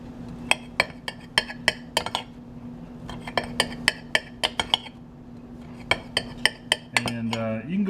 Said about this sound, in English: simply just cut this into kind of 1-inch cubes